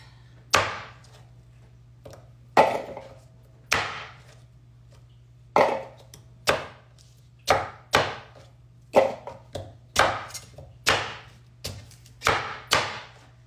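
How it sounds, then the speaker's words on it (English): Cleaver chopping radish and carrots hard on a cutting board, about fifteen loud, sharp thwacks in an uneven rhythm, close up and with no talk. "So with the cleaver, you'll notice I have no shame about chopping this up quite hard."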